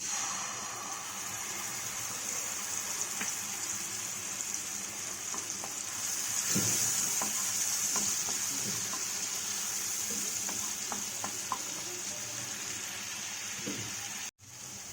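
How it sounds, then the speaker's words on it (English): Onion paste fries in a kadhai in which prawns were just fried, giving a steady, soft sizzle with scattered small pops and clicks throughout and no talking. "So in the same kadhai now I am going to add the onion paste."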